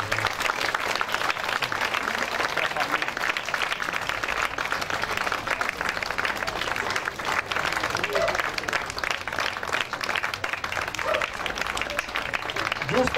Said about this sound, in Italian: Vi chiedo, per ringraziare tutti i figuranti presenti, un grande, grandissimo applauso.